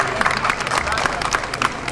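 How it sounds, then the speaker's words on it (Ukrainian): Crowd applause for an honorary citizen at a city day celebration, a steady wash of many hands clapping with scattered sharper claps, fairly close, with a voice speaking over part of it. "Вітаємо ще раз бурхливим оплесками Віктора Олександровича Ткаченко, почесний громадянин міста"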